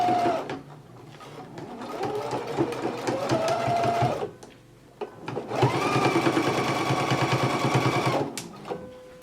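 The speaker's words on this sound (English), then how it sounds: "we're just going around in a circular motion to stitch the sleeve lining to the band in the jacket" Sewing machine stitching a jacket sleeve lining to the band, running in two long rapid whirring bursts separated by a brief pause, close and loud.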